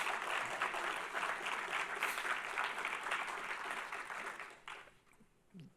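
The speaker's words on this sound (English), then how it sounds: "just a huge thanks and some applause for everyone involved helping to make this happen" An auditorium audience applauds at an academic conference on censorship in the sciences, a dense, steady wash of clapping that holds for several seconds, then thins and fades toward the end.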